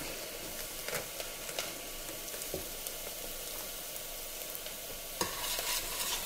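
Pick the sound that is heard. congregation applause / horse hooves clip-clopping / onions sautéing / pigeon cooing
onions sautéing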